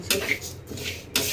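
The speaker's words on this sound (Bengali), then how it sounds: "এটা এখন একটু নাড়াচাড়া করে নেব" Mung dal made with a fish head is stirred in a metal kadai, giving a few short, close scrapes and clinks of a spoon against the pan.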